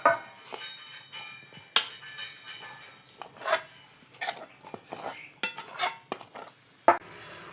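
Fried rice goes from a pan into a metal bowl, heard as scattered clinks and scrapes of metal utensils, close and fairly quiet, with gaps between the knocks.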